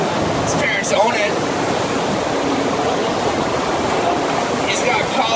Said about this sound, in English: Billy, your board's on the wave.